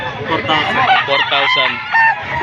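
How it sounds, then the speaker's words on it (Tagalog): A Sweater Kelso gamefowl rooster, about a year old, crows loudly and close by at a gamefowl sale in Lipa, Batangas, giving one full drawn-out crow with faint background voices around it. "ito pong dalang manok ni Sir dito sa Lipa"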